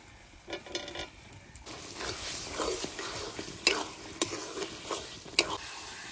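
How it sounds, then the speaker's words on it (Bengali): Fried potatoes being stirred into cooked spice paste for a traditional village river-fish curry, a spatula scraping and clattering in the pan in close, irregular strokes over a soft steady sizzle, with several sharper knocks. "ভেজে রাখা আলু দিয়ে একটুখানি নাড়াচাড়া দিয়ে এবার জল দিয়ে দেবো"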